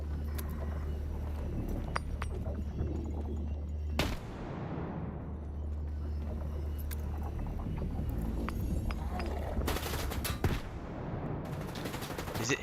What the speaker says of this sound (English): he's levitating guns and firing them at me